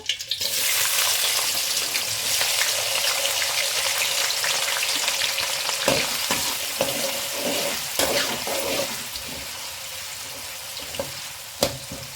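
Chopped onions hiss and sizzle in hot oil for egg curry, a loud, continuous frying crackle with a few sharp clicks from the pan toward the end.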